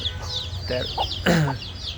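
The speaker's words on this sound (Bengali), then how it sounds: "এটা হচ্ছে আরেকটা মুরগি আমার" Young chickens, about 23 days old, cluck on a small poultry farm, giving a string of close, short clucks and squawks with a louder call near the middle.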